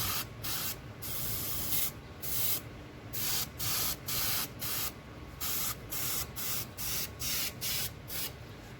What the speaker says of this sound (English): get your really light paint down and get your airbrush low pressure real close